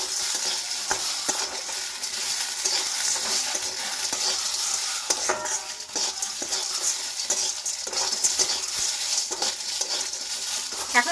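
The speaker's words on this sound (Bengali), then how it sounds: "সবগুলো আমি একসঙ্গে ভেজে নেব।" Coconut pieces, three green chilies and four pieces of ginger fry together in a pan with oil, giving a steady close sizzle broken by stirring scrapes and small clinks throughout, with no talking.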